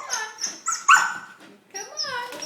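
A Belgian Malinois whines and whimpers in high, wavering cries, close and fairly loud, with a brief gap before another run of whimpers.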